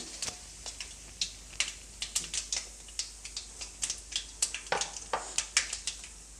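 Lentils, mustard seeds and cumin fry in a pan for upma, a steady quiet sizzle dotted with sharp popping crackles in an irregular patter, close up with no voices.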